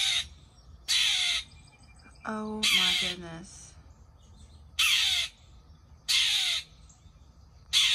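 A crow caws loudly at 5:30 in the morning in a neighborhood, several harsh bursts of calls spaced a second or two apart, with a person briefly exclaiming in between.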